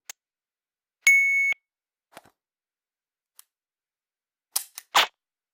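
A G-Sight LaserHit laser dry-fire training system registers shots from a pistol with an extended magazine drawn from appendix carry: a long electronic beep, then a few faint clicks and a pair of sharp snaps near the end, with no talk.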